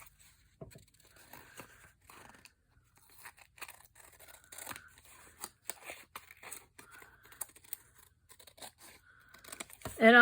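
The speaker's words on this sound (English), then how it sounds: "Turn it over and trim it." Paper matchbook journal cover being trimmed with scissors, a run of quiet, close snips and light papery scrapes in short irregular bursts.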